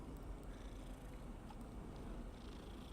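Cat purring in the video game Hogwarts Legacy, a soft steady low rumble that runs continuously and evenly at low volume, with no talk over it.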